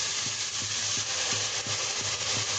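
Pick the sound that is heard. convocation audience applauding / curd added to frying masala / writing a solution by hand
curd added to frying masala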